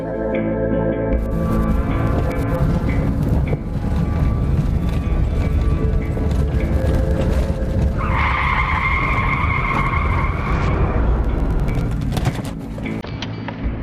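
A car brakes and skids near a person, a long harsh rumble of tires with a sustained squeal partway through, loud and close.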